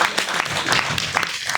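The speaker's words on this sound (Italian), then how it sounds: "un applauso a Antonello, perché veramente ha fatto un'opera ciclopica" An audience at a town gathering in Alà applauds, a dense burst of steady clapping that fills the room at close range.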